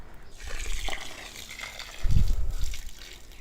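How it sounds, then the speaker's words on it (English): Water pours from a can or cup onto soil around newly planted aloe vera pups in pots, a short close splash and trickle that swells partway through. "Just give them a little bit of water."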